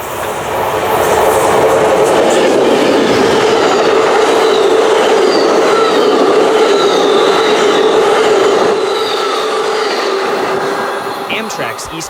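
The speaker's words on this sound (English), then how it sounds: "Amtrak's eastbound California Zephyr is only a few minutes late today" Amtrak's eastbound California Zephyr passenger train passes close by, a loud, steady roar of wheels and rumbling cars with rhythmic clatter and faint wheel squeal that holds for the whole stretch before easing slightly at the end.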